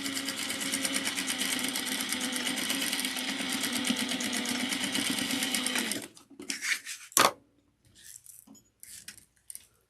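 A sewing machine runs fast and close, stitching a bag seam in a steady rapid chatter for about six seconds, then stops, followed by short stuttering backstitch bursts and clattering handling noises with no talk.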